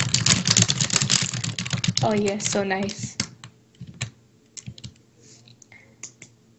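Rapid clicking and typing on a computer keyboard while playing Roblox, dense keystrokes at first then sparser taps, with a brief spoken remark in the middle.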